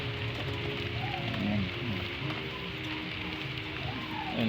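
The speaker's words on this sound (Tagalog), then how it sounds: "Ayan o, mga ambon yan o." Light drizzle patters steadily and softly outdoors during a pigeon flock's training session, a faint, even hiss of fine drops with no other clear sounds.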